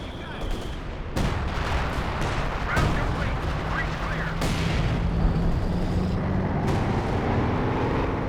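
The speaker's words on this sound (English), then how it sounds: "Major artillery coming down, hoping to clear off the bunker, I think." Heavy artillery barrage in Company of Heroes 2 pounding a bunker: repeated loud booming impacts and crackling gunfire rolling continuously, dense and close, with explosions overlapping throughout.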